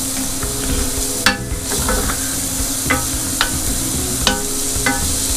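Finely chopped onion crackles and sizzles steadily in a hot pan, with a spoon stirring and several sharp scraping clicks against the pan at close range.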